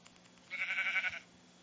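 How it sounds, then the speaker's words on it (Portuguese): A single sheep bleat from Minecraft PE, a short wavering cry lasting under a second, heard clearly on its own against a quiet background. "Ah lá, achei a ovelha."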